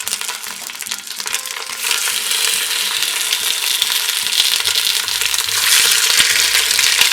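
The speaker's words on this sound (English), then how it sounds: "So we're going to put all the chicken thighs in one layer, sizzling already." Chicken thighs laid in one layer in a hot pan for browning without seasoning, a loud continuous close sizzle and crackle with scattered pops that swells slightly as it goes on, with no talk.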